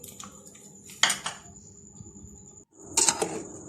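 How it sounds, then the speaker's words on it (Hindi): A spoon clinks and scrapes against a bowl while garlic, ginger and masala are stirred into yogurt for achari chicken, with a few distinct metallic knocks, a brief pause, then more scraping, close and without speech. "मैं इसको अच्छे से दही के अंदर मिक्स कर रही हूँ।"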